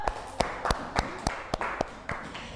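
Sparse clapping in a classroom during a coding and civics lesson with a teaching robot, about nine separate claps spread over a couple of seconds, fairly close and unevenly spaced, from a small group of students.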